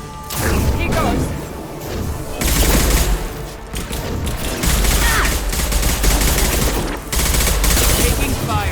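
Rapid automatic gunfire and crashing impacts from a Mass Effect 2 firefight on Insane difficulty, loud and continuous in dense bursts with short lulls, a voice occasionally under the shooting.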